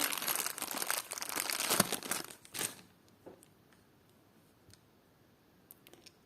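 A small plastic packet holding vintage clip-on earrings being handled and crinkled up close, a busy burst of crackling rustles for about two and a half seconds, then a few faint isolated clicks and crinkles in near quiet.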